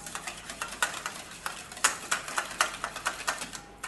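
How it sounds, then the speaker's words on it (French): An egg is beaten with half a glass of water for an ancient-style dessert batter, the whisk or fork clicking rapidly against the bowl in a quick, steady rhythm, close and alone. "d'un demi-verre d'eau, qu'on bat ensemble."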